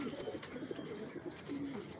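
Racing pigeons coo in soft, repeated low murmurs, several birds layered together at close range over a faint background hiss.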